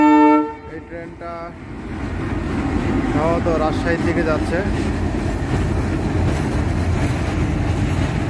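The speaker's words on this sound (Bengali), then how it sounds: "ইতিমধ্যে একটি ট্রেন চলে আসছে।" A train arrives at Saidpur railway station, opening with loud horn toots before a rolling, rumbling roar of the passing cars builds and continues, with someone talking briefly over it.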